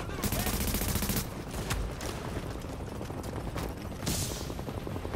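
Rapid video-game burst-fire weapon shots rattle in close, dense clusters that carry through the whole span, with a faint voice talking underneath.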